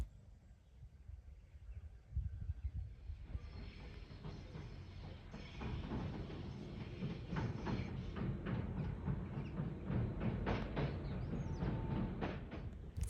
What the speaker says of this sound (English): the train is also approaching